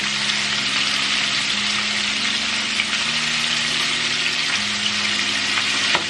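Corn on the cob deep frying in hot oil, a steady dense sizzle and crackle that holds at an even, loud level throughout with a low hum beneath.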